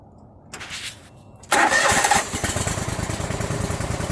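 A fuel-injected riding lawn mower engine cranks briefly, then catches and starts, settling into a loud, close, steady running rumble with no talking.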